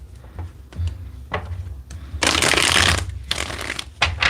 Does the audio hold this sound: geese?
no